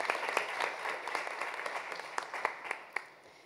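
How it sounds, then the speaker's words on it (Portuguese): Audience applause at an Amnesty International annual report event, steady clapping from a crowd heard at a distance, with a few sharper claps standing out before it fades. "Uma salva de palmas para ele."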